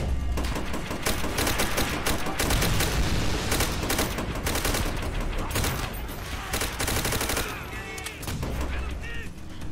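M1 Garand rifle gunfire in the World War II game Call of Duty: World at War, dense rapid shots and battle blasts in a continuous barrage, loud and close.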